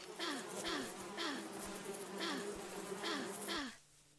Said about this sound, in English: These bees do a lot of damage.